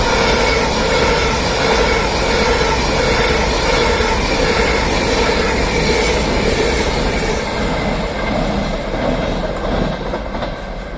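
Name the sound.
Avanti West Coast class 390 train passing at Crewe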